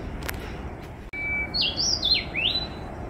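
A bird chirps clearly in a short run of high, sliding whistled notes over a quiet outdoor hiss near a stream in Vashisht village, Manali, preceded by a couple of faint taps.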